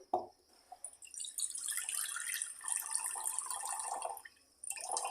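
Water pouring and trickling off rinsed medium poha as it is drained in a kitchen, a continuous close splashing flow lasting several seconds with a brief drip at the start and a short pause near the end.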